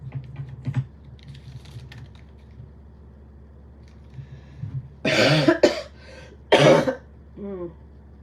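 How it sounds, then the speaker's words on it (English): Light keyboard typing at first, then a burst of harsh, close coughing in several fits, ending with a throat clear. "I think I'm gonna cough forever"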